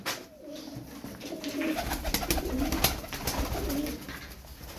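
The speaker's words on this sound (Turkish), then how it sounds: "6 tane kuş var burada." Six pet pigeons coo softly in repeated low, rolling calls, fairly faint against a steady background hiss.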